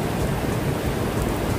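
Steady rain hisses all around during a walk in the Gortin Glens forest park, a dense, even patter with no voices.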